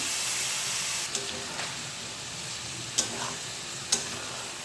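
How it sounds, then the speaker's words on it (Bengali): Eggplant pieces sizzling in rohu fish oil with turmeric, salt and chili powder, a steady close frying hiss broken by a few sharp scrapes of a spoon against the pan. "এবার আমি বেগুনগুলো দিয়ে দিলাম।"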